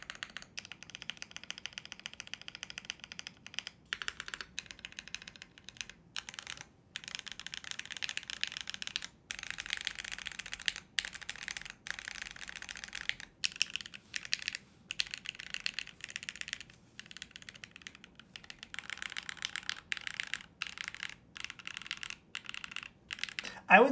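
Steady, fast typing on a custom mechanical keyboard, crisp clacky keystrokes in continuous bursts with brief pauses, close and clear, no talking.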